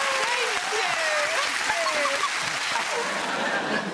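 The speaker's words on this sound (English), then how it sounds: "Oh, applaud that!" A television studio audience applauds at a chat show, a continuous wash of clapping heard with excited voices calling out over it.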